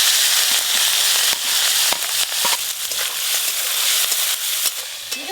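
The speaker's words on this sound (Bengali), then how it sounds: "সর্ষের তেল, তেল গরম হয়ে গেছে, এবার প্রথমে চিংড়ি মাছগুলো ভেজে নেবো" Prawns hit hot mustard oil in a wok, a loud, close, crackling sizzle with sharp pops and spits throughout.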